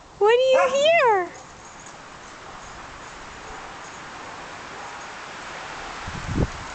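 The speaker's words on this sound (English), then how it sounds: "Are you guys woofing?" Beagle giving a short, wavering howling woof up close, followed by a long stretch of windy outdoor hiss, with a brief rustle of bushes near the end.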